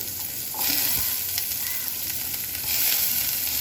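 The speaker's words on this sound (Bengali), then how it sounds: "এবার একটু নুন দিয়ে দিলাম। পেঁয়াজ দিয়ে দিচ্ছি," Steady loud sizzling of salt and chopped onions frying in a hot pan during a home lunch cook, with occasional stirring scrapes and no talking.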